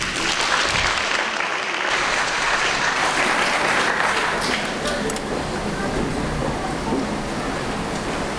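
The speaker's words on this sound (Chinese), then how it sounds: "掌声有请" A concert audience at a Dream of the Red Chamber music performance bursts into dense, sustained applause that fills the hall steadily, loud and continuous throughout, with faint voices blended in.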